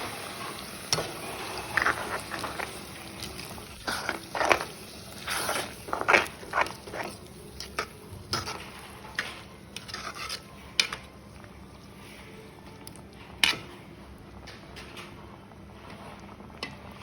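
A spoon scrapes and stirs through a thick potato tomato gravy in a pot, with repeated clinks against the metal over a soft background sizzle.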